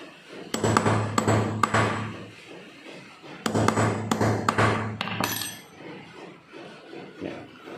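Two bursts of sharp metallic hammer strikes on a leather stamping tool, several quick blows each, loud and close, with quieter tapping afterward.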